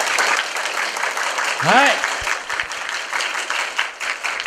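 Audience applause at a high school improvised dance battle, voting for a contestant: a dense wash of clapping from a crowd fills the whole stretch, with a brief spoken word over it.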